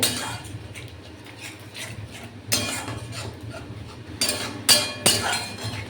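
Jaggery powder stirred into a gravy mixture in a cooking pan, with scattered metallic scrapes and clinks of a spoon against the pan, sharper and louder toward the end.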